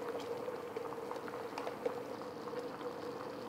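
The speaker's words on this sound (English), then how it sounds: "It's thickening nicely, but it needs a little more, so I'm pouring in the remainder." Brown gravy bubbles and simmers steadily in a pan as cornstarch is added, a continuous soft boiling sizzle with small pops throughout.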